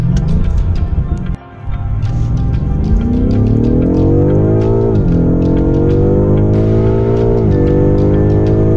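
A BMW M5 Competition engine revs hard and loud up close, its pitch climbing through each gear with brief dips at the shifts, followed by a sharp drop and then renewed acceleration.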